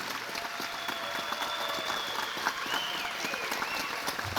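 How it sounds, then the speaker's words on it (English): A crowd at an astronaut reunion event applauds the honorees with sustained, even clapping heard at moderate distance, with faint whistles or tones rising above the patter. "Can we just give a round of applause to all of our esteemed"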